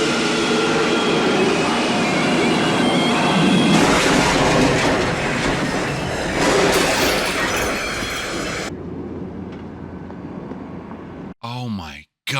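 Train scene from the 1971 film The French Connection: loud rumbling rail noise and rattling carriages for about nine seconds, then a sudden drop to a faint hum and brief bursts of other sound near the end.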